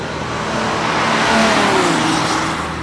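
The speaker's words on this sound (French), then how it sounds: "Démarrage sans clé sur une McLaren qui laisse." A McLaren supercar's engine firing up with keyless start on a street in Monaco, a loud, steady close mechanical roar and whir that swells slightly and settles.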